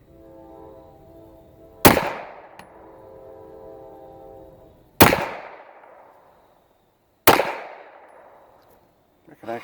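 An H&K PSP 9mm pistol fires three loud, sharp shots several seconds apart, each with a short echoing decay, over a faint background hum.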